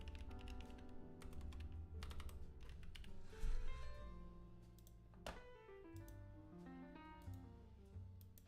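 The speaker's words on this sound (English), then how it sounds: "I think I'm always typing in the wrong window." Typing on a computer keyboard at a desk alongside a Wacom One 14 pen display, a steady run of quick, soft key clicks heard close and alone, with a few slightly louder taps partway through.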